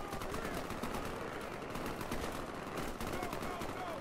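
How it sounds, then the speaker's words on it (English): Dense machine-gun and rifle fire from a Garry's Mod city battle between terminators and military spec ops, rattling continuously and loud throughout, with a voice talking over it. "Now they're shooting over this way."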